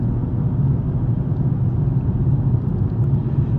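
BMW M240i coupe accelerating while merging, heard from inside the cabin as a steady, full low engine rumble and road drone that holds constant and fairly loud throughout, with no voices.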